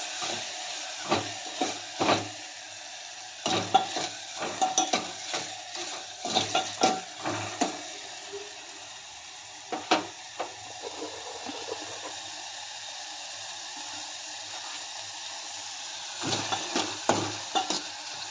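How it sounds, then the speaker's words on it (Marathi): Salted tomatoes roast in a pan for moong dal varan, giving a soft sizzle under repeated quick scraping bursts of a spoon stirring, with quieter pauses between strokes. "ह्यामध्येच एक चमचा मीठ घालते टोमॅटो लवकर भाजले जातील"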